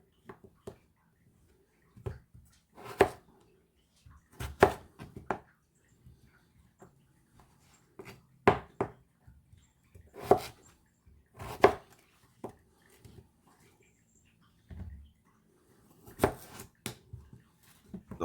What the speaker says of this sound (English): I like to do 3 slices, as you can see, and then just cube them into bite-sized pieces.